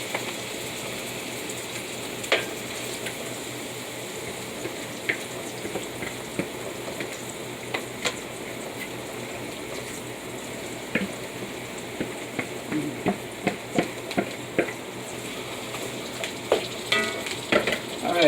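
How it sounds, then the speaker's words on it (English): Guyanese-style chicken curry fries down in a pot over low heat, giving a constant close sizzle with intermittent crackles and pops that grow a little busier near the end. "Alright, so we're going to let this fry down a little bit."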